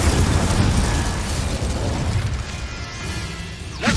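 In the Hogwarts Legacy video game, an Incendio fire spell is cast and lets out a loud, continuous roaring whoosh of flame. It sustains for a few seconds, then ends in a brief crackling flare.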